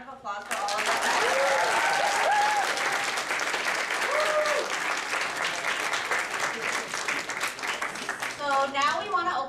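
An audience bursts into sustained applause at a campus event, steady dense clapping that holds for several seconds with a voice speaking over the start before the clapping slowly thins out.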